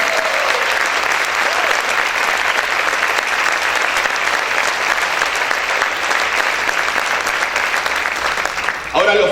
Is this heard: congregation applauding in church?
yes